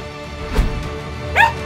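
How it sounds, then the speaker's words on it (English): A dog barks in a film trailer, two short barks about a second apart over a steady musical bed, the second brighter and yappier. "That's the dog I like to ride."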